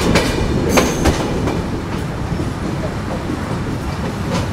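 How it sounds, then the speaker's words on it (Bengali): A metre gauge train passes close by at night, crossing a broad gauge line near Dhaka, with loud rhythmic clickety-clack bursts of wheels over rail joints above a constant rolling rumble. "আমাদেরকে ক্রস করে গেল মিটার গেজ ট্রেন।"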